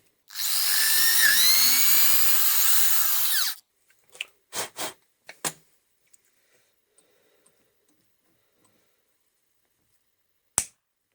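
A power drill with a 4.8 mm bit whines steadily for about three and a half seconds, then stops, followed by a few short clicks and knocks nearby, during control arm work on a 2000 Peugeot 406 2.0 HDi.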